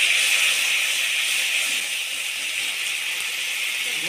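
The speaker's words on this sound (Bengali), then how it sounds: "1 চামচ আদা বাটা, অল্প একটু জল দিয়ে কষিয়ে নেব।" Garlic paste and ginger paste sautéing in oil with a little water for a fish-head and bottle gourd curry, a loud, steady, close hiss of sizzling steam that holds without pause.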